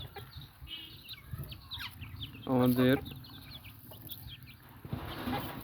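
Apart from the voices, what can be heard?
desi chickens clucking while eating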